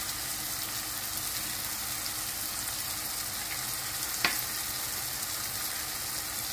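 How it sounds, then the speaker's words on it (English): Whole cardamom pods, cumin seeds and cloves sizzle in hot oil in a pan while chicken pilau is being cooked, giving a steady, close frying hiss with one brief clink partway through. "I'm just going to drop some of those in there. Cardamons, cummin, and cloves."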